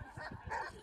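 A golden retriever gives a short, quiet bark or yip, one brief burst that sounds a little distant.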